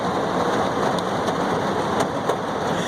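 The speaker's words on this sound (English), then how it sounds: "I don't know if you can hear the thunder or the hail" A thunderstorm with rain and hail gives a dense, loud wash of falling rain with a few sharp impacts standing out, heard steadily throughout without any voices.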